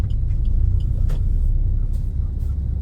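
A car turning slowly in second gear during a practical driving lesson, heard as a steady low engine rumble with road noise throughout, fairly loud and continuous, with no talking.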